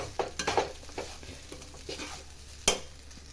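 A spoon stirs tomato mint rice in a frying pan, giving quiet repeated scraping strokes over a faint sizzle, with a sharper clink near the end and no talk.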